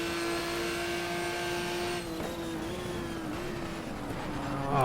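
Maserati MC12 race car in the GTR 2 racing game, a steady loud engine whine holding through the clip, dipping briefly as it shifts up into sixth gear, then climbing again under constant engine drone.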